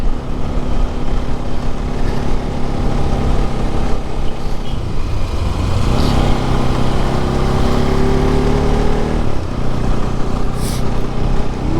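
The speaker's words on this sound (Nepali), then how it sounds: "मेरो चाहिँ चेन कराइरहेको छ" Motorbike riding along a cool hillside road with its chain clicking, a continuous loud engine drone and road rumble with faint rhythmic ticking beneath, no talking.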